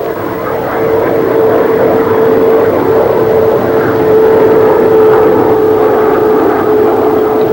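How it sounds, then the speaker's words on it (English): A Banshee jet fighter plane cruising in flight gives a steady, loud engine drone with a constant hum running through it, unbroken for the whole stretch and without any talking. "the Banshee cruises at normal speeds with a minimum of vibration and noise"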